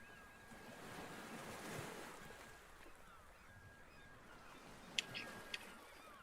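Ocean waves rolling and washing in a soft, distant surging wash with gusty wind noise, a few faint high bird-like cries near the end.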